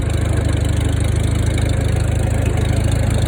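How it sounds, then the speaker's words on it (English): An old Farmall tractor engine runs at planting time with a steady, close, loud low rumble and an even, rapid chugging pulse that never lets up. "Take y'all for a ride on the old Fanatical Farmall here."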